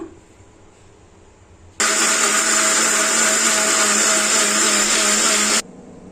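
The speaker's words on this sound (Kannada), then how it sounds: "ಫ್ರೆಶ್ ಕಾಯಿ ತುರಿ ಒಂದೊಳಗೆ ಕಾಯಿ ತುರಿ ತೊಗೊಂಡಿದ್ದೀನಿ ಇದಷ್ಟು ರುಬ್ಕೊಳ್ಳೋಣ" Mixer grinder grinding fresh grated coconut, a steady loud whirring motor roar that starts abruptly after a quiet moment, runs evenly for about four seconds, then cuts off.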